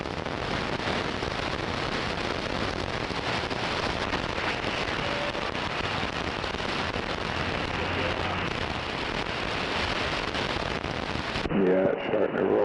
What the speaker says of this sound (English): Gonna get hailed on.